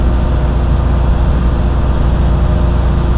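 An automatic big rig truck descending Monteagle grade at about 1700 RPM in ninth gear with full engine (jake) brakes engaged, giving a continuous loud, low droning roar that holds steady with no talking.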